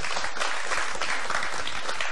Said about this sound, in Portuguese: Uma salva de palmas, faz favor.